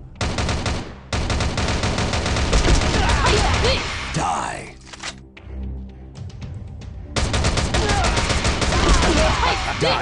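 Loud, rapid bursts of gunfire in the Rival Fire video game, a dense barrage that breaks off briefly around the middle and then resumes at full intensity, with a voice heard underneath.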